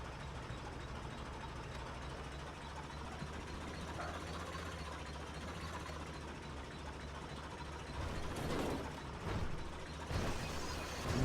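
A small, underpowered tractor engine in GTA 5 Online runs with a steady low rumble and idle-like drone, swelling into rougher, louder bursts near the end.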